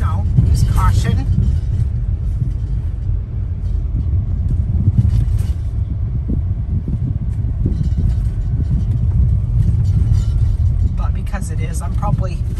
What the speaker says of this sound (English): it's generally passable for any vehicle, but it is washboardy and bumpy